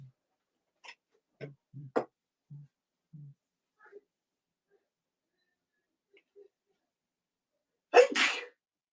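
A few quiet clicks and soft taps, then a single loud, sharp sneeze bursts out near the end.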